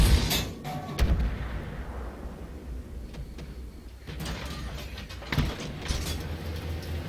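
Artillery in Armored Warfare firing high explosive rounds, heard as several heavy booming blasts spread across the stretch over a steady low rumble of battle noise, with no talking.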